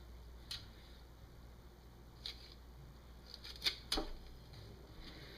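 A few sharp snips and crunches as the feet are cut off a duck carcass being prepared for the freezer, isolated clicks spaced a second or two apart over a quiet low hum, with a closer crunchy pair near the middle.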